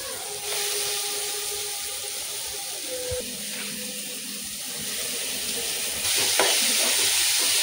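Shredded cabbage stir-frying in a hot pan for fried rice made with agri masala and mixed vegetables, a loud continuous hiss with a few clanks and scrapes of a utensil, and the sizzle grows brighter near the end.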